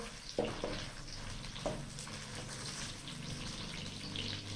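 Onions fry in cooking oil over a medium flame with a soft, steady sizzle. A few brief clanks of handling or stirring stand out early, and no voices can be heard.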